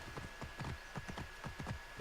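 Horse hooves clip-clop steadily in the Egyptian setting of Assassin's Creed Origins' Discovery Mode, a quiet, even walking rhythm of soft thuds repeating throughout with no talk over it.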